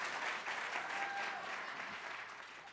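An audience at a redistricting reform town hall applauding, a dense, moderately distant patter of many hands that holds steady and then gradually fades out.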